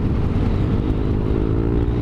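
Strong typhoon wind buffets a rider on a moving motorcycle, a loud, continuous low roar and rumble with engine drone blended underneath and no talking.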